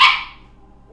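A single sharp dog bark, loud and close, opens the moment and then fades into a quiet indoor room.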